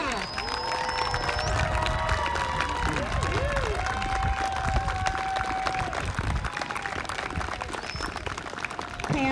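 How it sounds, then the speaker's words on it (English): An audience at a kindergarten recognition ceremony claps and cheers for the graduating class, broad sustained applause with children's voices and whistles mixed throughout. "Let's give the graduating class of 2033 a round of applause."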